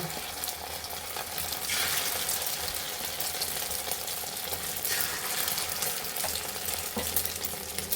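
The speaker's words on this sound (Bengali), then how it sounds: "এখানে তেল দিয়ে দিব এখন ডিমগুলো দিয়ে দেব" Eggs frying in hot oil in a pan, a loud steady crackling sizzle filling the whole stretch, with a few light scrapes and taps, no talking.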